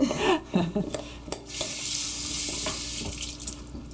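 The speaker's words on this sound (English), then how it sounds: "Let me wet my hands again." A kitchen tap runs as hands are wetted under it. Close splashes and clatter come first, then a steady hiss of flowing water. No one speaks.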